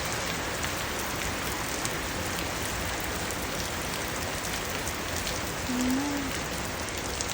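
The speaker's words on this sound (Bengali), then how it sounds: "এত বৃষ্টি," Heavy rain pours steadily and densely, a continuous close hiss of drops on surfaces with no break.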